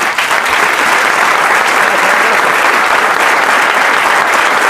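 A university audience breaks into loud, sustained applause, dense clapping from a large crowd holding steady and close throughout.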